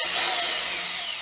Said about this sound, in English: I'm going to start it with the